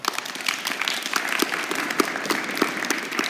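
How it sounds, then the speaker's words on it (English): A room full of people gives a round of applause after a basketball dribbling drill, a dense, even patter of many hands clapping close by for a few seconds. "Let's give him a round of applause."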